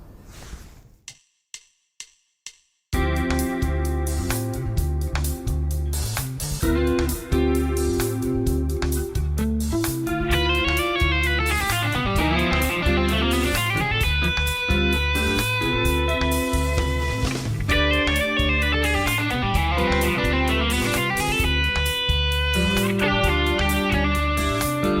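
A few muted ticks, then an electric guitar plays a fast D Dorian fusion lick mixing 16th notes and eighth-note triplets over a dense, loud backing, running continuously without pause.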